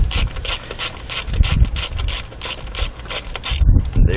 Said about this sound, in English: Tighten this one all the way down.